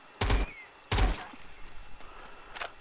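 Two loud, sharp weapon shots about three-quarters of a second apart in the game StarForge, followed by a fainter third report, with low background noise in between.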